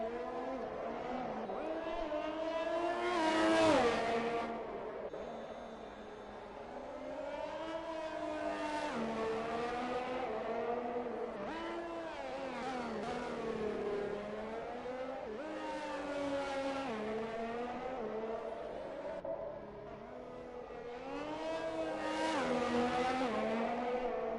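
F1 2021 Formula 1 cars, including a McLaren, pull out of the pit lane at the Singapore night race, with several engines rising and falling in pitch one after another. The whine is steady and fairly close, with faint talk over it.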